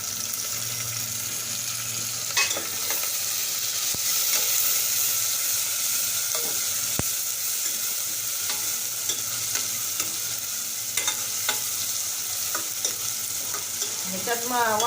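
Tomatoes being sautéed with fried onion for masale bhat give a steady sizzle and hiss in the pan, broken by occasional spatula scrapes and light knocks, close up with no talking.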